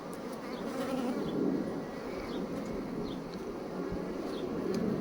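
Honeybees at a hive during a swarm inspection, a dense continuous buzzing hum heard up close and steady, with individual bees whizzing past now and then.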